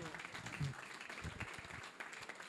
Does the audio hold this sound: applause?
yes